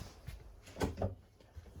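A bathroom door in a 2022 Heartland Pioneer 270BH travel trailer opens with a quiet click and a couple of soft knocks from the latch and panel, close and brief.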